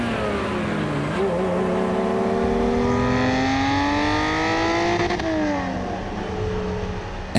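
A Ferrari Testarossa engine revs steadily, pitch climbing and falling as it accelerates and eases off, loud and close throughout with no talking.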